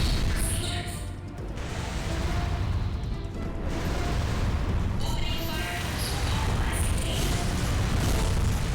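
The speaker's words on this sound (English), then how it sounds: "as you can see, there's fire." Game fire roaring in Armored Core Silent Line, a loud, steady broadband rumble with crackling and boom-like swells that fills the whole stretch.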